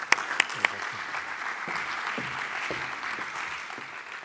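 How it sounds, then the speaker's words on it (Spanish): An audience at a cybersecurity conference welcomes a speaker with sustained applause, a few sharp louder claps at the start, then even clapping that tapers slightly. "Démosle una vez más un aplauso de bienvenida"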